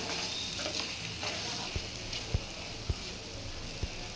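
Chicken gizzards stir-fry with garam masala in a pan, giving a continuous close sizzle broken by four evenly spaced soft knocks of a spatula against the pan.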